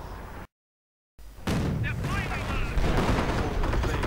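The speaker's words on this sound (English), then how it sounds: "More artillery, killing a few Grenadiers, but seemingly not doing much else, except blowing craters in the ground" An artillery barrage in a strategy video game, with a dense rumbling wash of booms and crackling blasts that keeps going after a brief dropout, while a commentator speaks over it.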